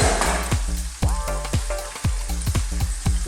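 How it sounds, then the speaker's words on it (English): Peppers and vegetables stir-fry in a pan over a very high flame, giving a loud continuous sizzle broken by rhythmic scraping and clacking strokes of the utensil roughly every half second. "let's just keep this on a real high fire, maximum heat. And pretty much we're just going to stir fry this now."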